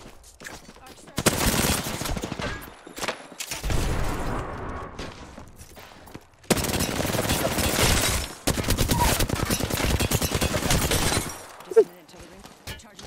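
Rapid automatic gunfire in Apex Legends, several long loud bursts separated by brief pauses, with shattering impacts and a player talking between volleys.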